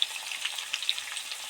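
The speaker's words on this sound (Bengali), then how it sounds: "আলুগুলো কি সুন্দর লাল লাল করে ভাজা হচ্ছে দেখুন" Potato pieces frying in oil in a pan for a cauliflower and potato curry, a steady close crackling sizzle with small bright pops throughout, no voices.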